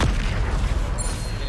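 Bombarda blasting spell exploding in Hogwarts Legacy during a troll fight, a loud boom at the start that rolls into a heavy, rumbling blast tail, with a brief bright ring near the end.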